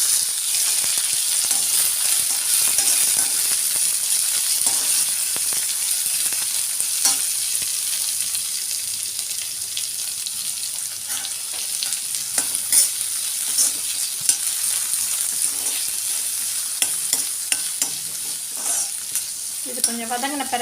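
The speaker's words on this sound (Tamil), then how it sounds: "வெங்காயம் நல்லா வதங்கிடுச்சு" Chopped onions sautéing with fennel and cinnamon in a pan of oil, a loud, even, continuous sizzle with occasional faint stirring ticks throughout, close and without voices.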